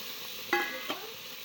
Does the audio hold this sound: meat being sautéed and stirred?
yes